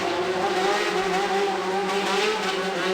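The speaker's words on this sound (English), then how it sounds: "The men were needlessly gunning their engines and filling the air with explosive screaming." Motorcycles of a biker gang gun their engines in a continuous, loud, screaming roar that holds steady throughout without any talk.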